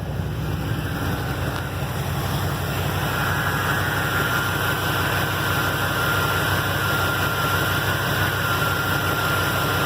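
A car engine idles during a vapor lock and heat shield test. The hum is steady and unbroken, heard up close for the whole stretch with no talking.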